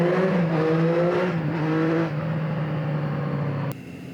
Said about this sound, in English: the exhaust noise on this bike is just amazing